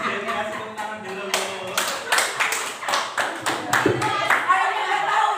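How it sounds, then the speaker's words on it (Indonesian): An audience clapping hands at a school dissemination event on positive culture, a rhythmic round of sharp individual claps that grows more regular and synchronized toward the end, close and clear. "Sini kasih tepuk tangan dulu."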